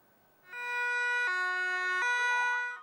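A loud emergency siren wails with a two-tone pattern, stepping between pitches before sliding, heard alone and close at a rescue training ground in Vinnytsia, Ukraine.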